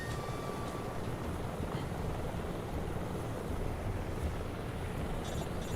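Helicopter in the stealth game Metal Gear Solid Delta: Snake Eater, a steady, loud rotor rumble and drone that holds evenly throughout with no clear beat or break.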